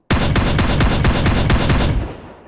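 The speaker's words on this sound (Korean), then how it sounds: "이렇게 총알 랜덤하게 나가도록 이렇게 샷건을 만들었고요" A shotgun built in a Unity VR game fires a rapid series of loud, sharp synthetic blasts, about a dozen in under two seconds, then the sound rings out and fades, with no voices.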